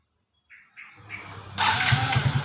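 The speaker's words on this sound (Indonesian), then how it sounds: "maka kita coba dulu menyalakan motor ini, teman-teman ya" A Yamaha Mio J motorcycle is started: a brief starter whir and cranking, then the engine catches and settles into a loud, close, steady idle.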